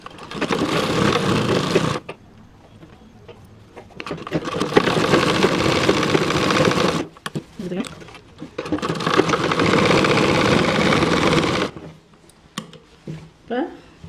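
An electric sewing machine runs in three long, steady bursts while stitching a gathering pant, with short pauses between them in which fabric rustles and a person speaks.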